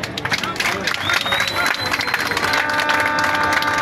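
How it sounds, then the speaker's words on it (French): Crowd clapping for the President at an academic year closing ceremony, loud and continuous, mixed with crowd babble and voices speaking over it. "que je vous demande d'applaudir"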